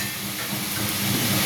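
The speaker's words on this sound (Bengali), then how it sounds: "মাংসটা একটু ভাজা ভাজা করছি" Meat sizzles in a pan, cooked pale with little turmeric, giving off a steady, dense hiss that rises slightly toward the end with no voices over it.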